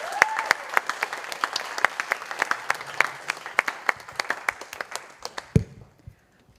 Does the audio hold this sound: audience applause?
yes